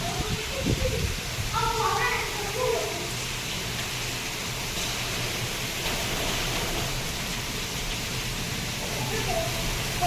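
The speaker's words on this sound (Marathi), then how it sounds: "तर आता खूप पाऊस आलाय, तुम्ही बघू शकता किती वादळ सुटून गेलाय" Heavy rain pours during a storm, a dense continuous hiss of rain and wind, with a voice speaking over it.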